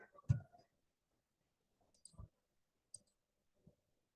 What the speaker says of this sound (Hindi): लेफ्ट बटन से क्लिक कर देंगे, सेलेक्ट हो जाएगा।